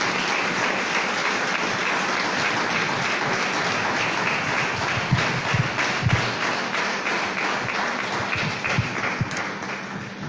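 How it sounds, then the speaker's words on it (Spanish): A church congregation gives the Lord a strong round of applause during a sermon, a dense, steady wash of many hands clapping that holds for the whole stretch, with a few louder thumps near the middle. "dale un fuerte aplauso al Señor"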